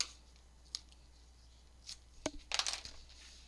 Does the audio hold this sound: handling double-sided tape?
yes